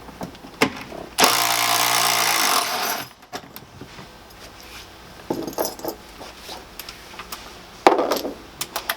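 An electric drill strips fixtures and the B-pillar trim out of a Sprinter 144 van, one long loud whirring burst followed by short bursts, clicks and rattles of parts.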